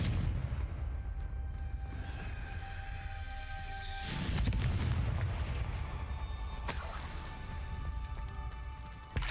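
A spell blast from the Confringo fire spell in the video game Hogwarts Legacy, with two loud booming bursts over a continuous low rumble of game ambience, no talk.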